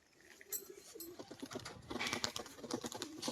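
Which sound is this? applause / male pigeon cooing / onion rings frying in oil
male pigeon cooing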